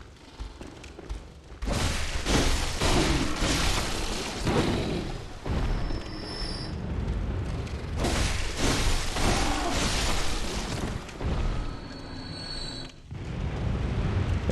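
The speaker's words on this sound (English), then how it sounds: "Yeah, see, you can hear the gunfire." Loud bursts of heavy gunfire and booming blasts in the video game Bloodborne's Old Yharnam area, rolling in long waves with short pauses between them.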